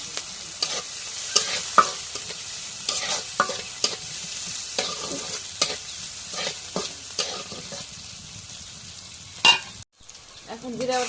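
Chopped onion and green chilies fry in hot oil, sizzling steadily while a spoon stirs and taps against the pan in repeated sharp scrapes, with a brief break near the end.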